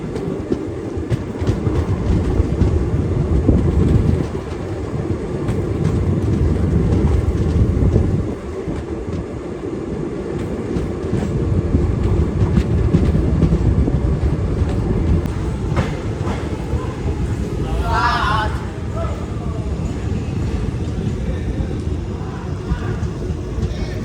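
A Khandesh Express passenger train of ICF coaches, running at around 110 km/h, gives a loud, continuous rumble and rattle of wheels on track, with a higher squeal rising briefly late on.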